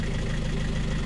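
A Kubota L5018 tractor engine idling close by at a quarry or rock dumping site, a steady low diesel rumble with a fast regular chug throughout the brief moment, no voices.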